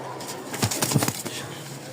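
Pigeons kept for sale, a male and female pair, give a few soft close coos with a flutter of movement over a quiet background.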